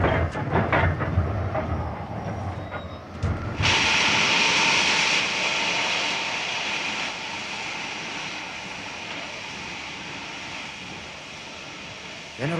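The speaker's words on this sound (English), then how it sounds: "The train's slowing down." A train rumbles steadily with a broad, hissing roar that swells after a few seconds and then slowly eases and fades, giving the sense of the train slowing down.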